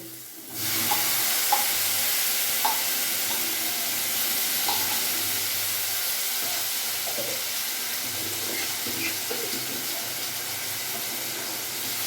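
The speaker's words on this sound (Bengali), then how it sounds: "এটা আমি একটু ভাজা ভাজা করবো" Steady loud sizzling of ginger and green chili paste frying in a hot pan, with occasional soft scrapes of stirring, no voices.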